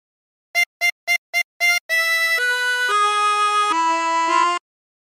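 Harmonica playing a phrase of a song: five short repeated staccato notes followed by a run of longer sustained notes stepping downward, clear and close with no talking.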